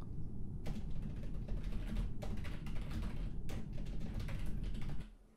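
Computer keyboard typing during an Among Us stream, a steady run of quick, close key clicks lasting several seconds with no talking, stopping abruptly near the end.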